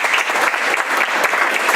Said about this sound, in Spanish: Vamos a recibirlo, por favor, con un aplauso.